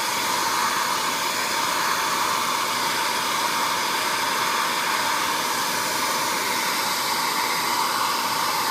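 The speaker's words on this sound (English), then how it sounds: "this hair dryer obviously puts out more heat than that, which is why it makes it so easy to just clean up" A hair dryer blowing hot air to lift Scentsy wax out of fabric, a loud, steady, unbroken whoosh of fan and motor running close and alone for the whole clip.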